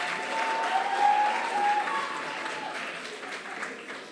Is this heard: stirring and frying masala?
no